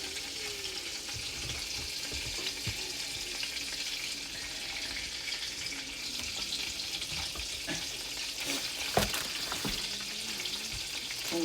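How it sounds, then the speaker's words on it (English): Flour-dredged turkey drumsticks brown in hot oil in a pot, giving a steady, close sizzle and frying hiss throughout, with an occasional clink or stir. "add it to the pot with the oil. You're just gonna get them browned a little bit"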